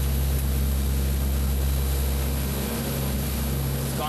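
A Lockheed P-3 with Allison turboprop engines drones loudly and steadily at the 1987 Moffett Airshow, a continuous propeller hum that stays strong throughout.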